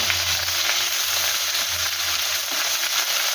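Taro stolons hit a hot pan already frying pointed gourd and jackfruit seeds tempered with nigella seeds, giving a steady, loud, close sizzle that runs unbroken throughout with no talking.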